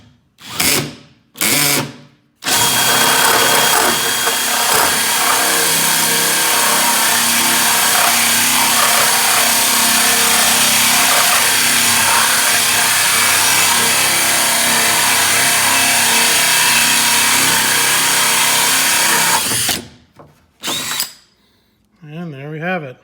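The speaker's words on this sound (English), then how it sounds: "Drilling the gas cap." A power drill with a Lenox hole saw grinds loudly and steadily for about seventeen seconds through a gas cap on a Cobra 427SC replica car, with brief bursts of sound just before and after.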